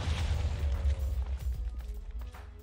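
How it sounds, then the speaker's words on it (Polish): A chest explodes in a modded Minecraft game with a deep booming blast, followed by rumbling, crackling debris that fades over a couple of seconds. "skrzynia wybuchnie."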